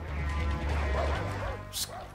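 A few barks from a dog in the video game Far Cry 4 come through a busy in-game soundscape of low rumbling and clatter, ending with a brief sharp crash near the end.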